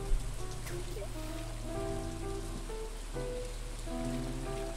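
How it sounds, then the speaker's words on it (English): Rain falls in the farming video game Stardew Valley, a soft steady patter of drops under gentle music, faint and continuous throughout. "In the rain. Yeah, the rain."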